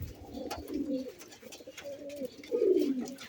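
Pigeons coo softly and repeatedly, a low throaty burbling from a few birds kept in a loft, fairly close with light background rustle.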